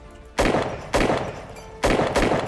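Sharp, loud gunshots in an Unturned World War II roleplay battle, four close cracks in an uneven rhythm with a decaying tail after each.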